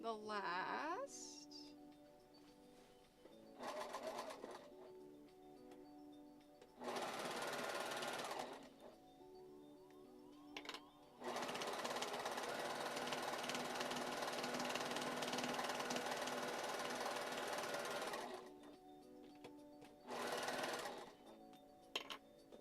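A sewing machine runs in several bursts, some short and one long steady stretch, each stopping and restarting with pauses between. A person talks quietly during the pauses and under the stitching.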